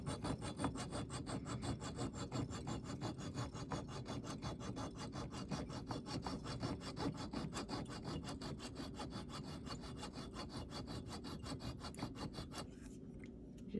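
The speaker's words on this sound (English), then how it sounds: "They also make a tube, a device that holds tubing so you can cut it." A small hand saw cuts through metal tubing clamped in a tube-cutting jig at a jewelry bench, steady close back-and-forth strokes in an even rhythm that stop just before the end, with no talk.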